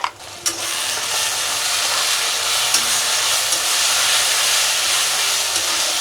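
Ginger, garlic and green chili paste going into a pan of frying chopped onions for chicken ghugni, with a loud, steady sizzle and hiss and a few faint stirring knocks.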